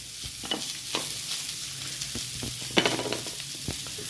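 Coriander, cumin and mustard seeds fry in a hot pan with a steady, close sizzle, broken by scattered pops and the scrape of stirring.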